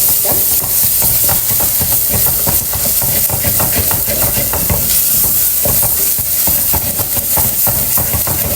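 Curry being stirred in a pan after chili powder goes in, a steady loud sizzle broken by repeated scraping strokes of the spoon, close and continuous with no talk.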